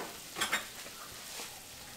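Beef steak in red sauce with broth is stirred in a pan: a soft, fairly quiet simmering sizzle with two quick scraping strokes near the start and a lighter one later, and no voices.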